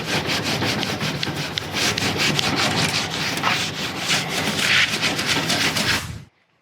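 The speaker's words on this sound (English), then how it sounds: "we'll take our standard scrub pad. We'll probably start with the soft side and start scrubbing off some of this grime." A scrub pad scours caked-on grime from a stainless steel grill in a continuous, close, loud rasping scrub with rapid back-and-forth strokes, stopping abruptly near the end.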